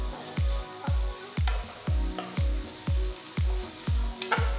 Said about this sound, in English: Saute the onions, the ginger, garlic and green chilies till they are a nice golden brown color